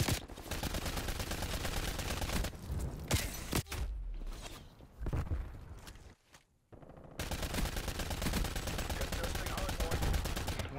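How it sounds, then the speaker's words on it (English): Video game gunfire, rapid loud bursts of automatic shots that stop for a few seconds with softer clatter and movement, then resume in a long sustained stream. "Someone shot in the back of our house."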